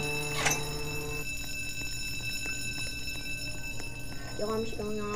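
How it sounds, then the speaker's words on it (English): An alarm sounds in the Roblox Jailbreak video game, a steady electronic ringing tone with sustained high pitches throughout, accompanied by game noise and brief rising beeps near the end. "The alarm's going off."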